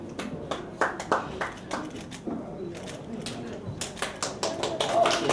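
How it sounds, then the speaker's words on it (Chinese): An audience claps to send off guests at an event, with scattered, uneven bursts of hand claps that swell toward the end, alongside a voice speaking through the middle. "我们再次掌声送客"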